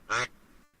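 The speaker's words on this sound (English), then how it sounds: "There's the basic quack." A mallard duck gives a single loud, short quack, clear and close, followed by quiet background.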